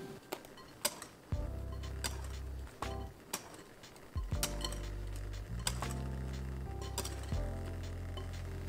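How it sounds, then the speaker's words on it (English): A utensil clinks against a bowl while strawberry puree is folded into meringue mousse, making sparse, irregular taps and scrapes with quiet pauses between strokes, close up and soft. "Now add half of the puree and mix just like how we did earlier."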